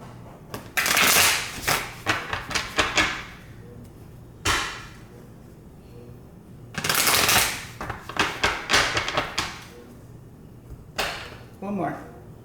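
Large oversized tarot cards being shuffled in several bursts of riffling and flicking, close and crisp, separated by short quiet gaps.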